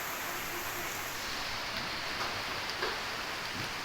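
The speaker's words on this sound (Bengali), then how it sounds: "এই যে বৃষ্টি পড়তেছে," Steady rain with wind in Agartala, a dense continuous hiss of falling drops that holds even and fairly loud throughout, with no voices over it.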